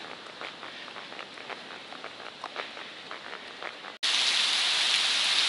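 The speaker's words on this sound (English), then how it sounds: "So it started raining before we made it out of town" Steady rain falling on a hiking trail in New Hampshire on the Appalachian Trail, a dense close hiss with scattered drop taps, then a sudden louder, brighter downpour wash after a brief cut, with no talk.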